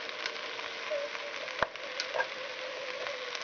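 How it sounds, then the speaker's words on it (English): Minced garlic sizzles faintly in a pot of simmering stew, a soft steady crackle with a few small pops and a light stir. "Listen to that sizzle"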